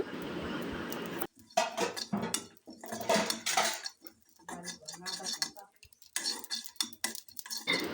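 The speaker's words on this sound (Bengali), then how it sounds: "তাই এখন একটু জিরা ভেজে নিচ্ছি" Cumin seeds roast in a pan, with a low frying hiss at first, then irregular clinks, scrapes and stirring taps of a utensil against the cookware, close and fairly quiet.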